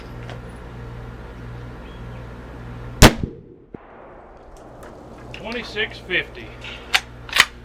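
A 30-06 rifle is fired once over a chronograph from a few yards away, giving a single loud, sharp crack that drops into near silence. Someone talks before and after the shot.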